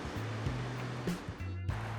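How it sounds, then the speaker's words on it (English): Fast-running river water rushes steadily in the Lake District on a wet day, a broad close hiss with a low tonal hum running under it and no voices. "But it's beautiful out here, even though the water's running fast."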